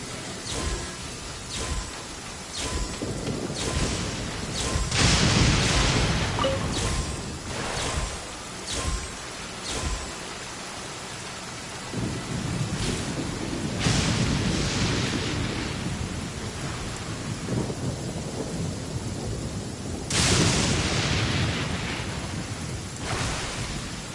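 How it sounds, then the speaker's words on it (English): Heavy rain and rolling thunder of a storm in Genshin Impact's Inazuma region, a steady loud wash of noise broken by repeated sharp crackling bursts and booms, with no talking. "Lightning flash!"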